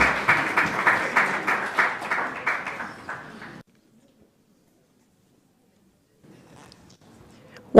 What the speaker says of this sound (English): One more round of applause for our keynote speaker